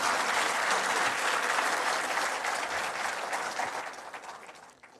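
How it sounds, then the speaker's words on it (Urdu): An audience at a Prime Minister Shehbaz Sharif event for an agricultural training program in Islamabad applauds loudly, a dense, steady clapping that holds for several seconds and then tapers off. "جن کے لیے بہت زوردار تالیاں لگیں"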